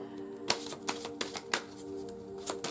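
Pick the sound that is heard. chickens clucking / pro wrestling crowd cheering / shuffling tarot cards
shuffling tarot cards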